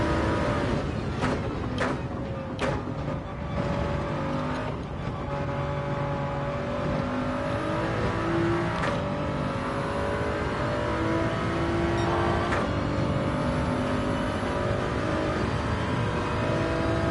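A race car engine in Gran Turismo 7 revs steadily and loudly throughout, the drone holding and shifting pitch with a few sharp transient clicks early on and no talking.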